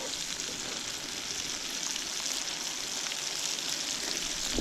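Garlic dropped into hot butter in a pan on a van camp stove gives off a steady, soft sizzling hiss that swells slightly toward the end, with no talking over it.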